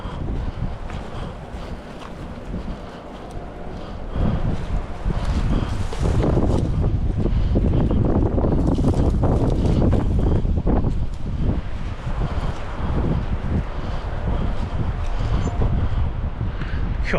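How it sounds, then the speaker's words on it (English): Strong gusty wind on an exposed spot along a cycling route in northern Spain buffets the microphone in a loud, continuous roar that swells and surges, with no speech. "God, bloody windy up here."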